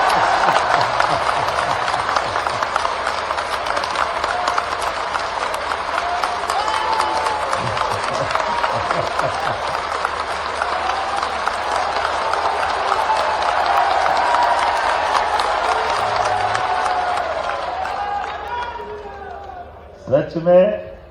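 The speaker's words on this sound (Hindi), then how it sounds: "इतनी बढ़िया तालियां तो यही बजती है" A large crowd at a public event with the Chief Minister applauds in a sustained, dense roar of clapping that holds steady and loud before tapering off, with a voice briefly at the end.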